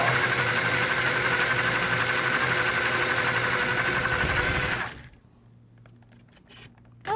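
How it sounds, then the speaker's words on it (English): An electric mixer beats no-bake chocolate cheesecake filling with a steady, fairly loud motor whir for about five seconds, then cuts off abruptly, leaving near quiet with a few faint knocks. "we're just going to be making it on the mixer, putting it in our pan"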